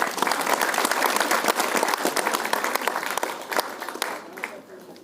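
Dense applause from an audience at a mind-power training session fills the room, steady and loud, then tapers off toward the end.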